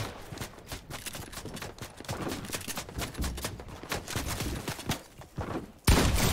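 Gunfire in a Fortnite tournament match, a run of rapid crackling shots and impacts through the whole stretch, with a sharp loud burst near the end.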